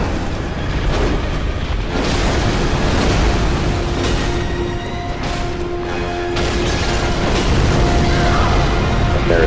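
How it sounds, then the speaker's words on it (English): A loud area-of-effect explosion in the Bloodborne video game: a dense, continuous roaring rumble that fills the whole stretch with booming surges. "That AoE explosion is very hard to time and tell when it's going to happen."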